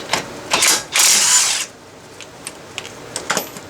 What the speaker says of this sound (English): I believe this is a 21 socket. So if you have an impact, this might just work.